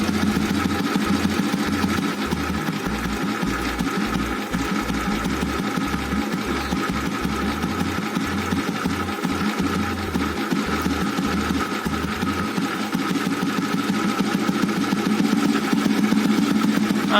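An old Royal Enfield Bullet motorcycle engine with a VM-24 carburetor idles with a steady, rapid low chugging that keeps on without a break, loud and close, with no voices.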